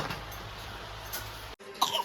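A short burst of coughing near the end after a brief pause, following a stretch of low background noise.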